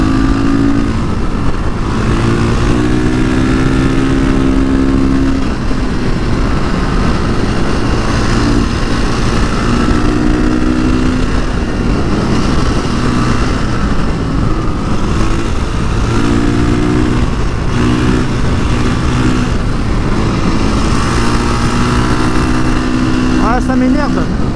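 A supermoto motorcycle engine runs at high speed in fifth gear, a loud, steady droning roar with rising and falling harmonic whines throughout, and a rider talking over it.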